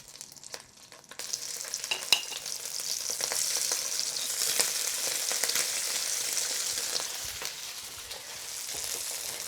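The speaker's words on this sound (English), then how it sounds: "we're gonna sear shrimp in shrimp fat" Shrimp searing in shrimp fat in a hot pan for pad thai, a loud, close, continuous hiss that swells as the shrimp go in, with occasional small taps and pops.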